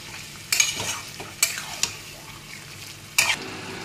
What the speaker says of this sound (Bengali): ছেড়ে দিই এই যে দই মাখানো মাংস। এবারে এইভাবে কষিয়ে নেব ভালো করে।